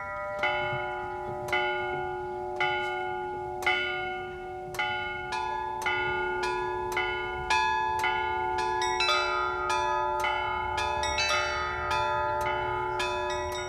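Church bells ring out across the old Russian town of Suzdal, a steady peal of repeated strikes growing busier as higher bells join in, clear and resonant with a faint outdoor background.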